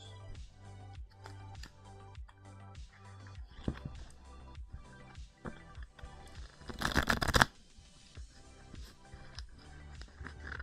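A Cryptid Camp card deck being shuffled up close: repeated short riffles in a steady rhythm, building to a louder, longer cascade of cards before settling back into quieter shuffling.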